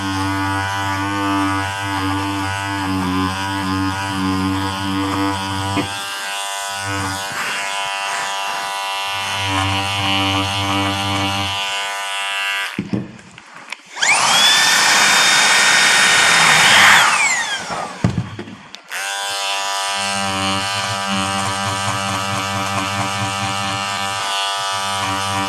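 A rug carving machine buzzes loudly and close for about five seconds, trimming tufted pile, and stands alone between long stretches of steady musical tones.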